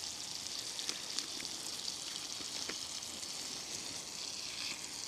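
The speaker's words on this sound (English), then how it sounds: "We're just cooking in a little bit of butter tonight" Pieces of a large steak fry in a little butter at a woodland campsite, giving a steady, soft sizzle with scattered crackles and pops that runs through the whole stretch without any talk.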